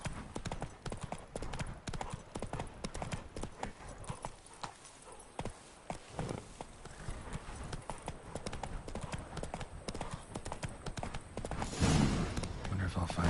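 Galloping horse hooves in The Witcher video game, a continuous rhythmic clip-clop close by with a snort or whinny near the end.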